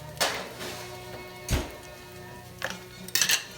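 Food pieces set down onto a pan bound for a warm oven give a few clinking metal knocks, close and moderately loud, with quiet gaps between the placements.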